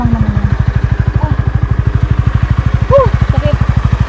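A Honda Winner motorcycle's single-cylinder engine chugs in a fast, even pulse on a climb near Bangkong Kahoy Valley, Dolores, Quezon, loud and close, with brief voices over it.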